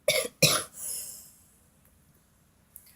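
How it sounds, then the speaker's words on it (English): Two sharp coughs from a person with asthma, close to the microphone, followed by a long raspy exhale, then quiet. "I have asthma, so I started having a coughing fit"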